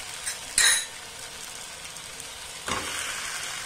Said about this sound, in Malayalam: ഇനി ഇതിലേക്ക് നമുക്ക് ചിക്കൻ ഇട്ട് കൊടുക്കാം